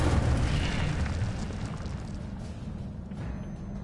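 The Incendio fire spell goes off in Hogwarts Legacy, a loud, deep, rumbling burst of flame that tails off into a sustained roar.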